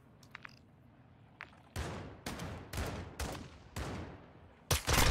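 Sniper gunfire in a video game: a series of sharp, loud shots spaced irregularly over a few seconds, with faint clicks before them and one heavier blast at the end.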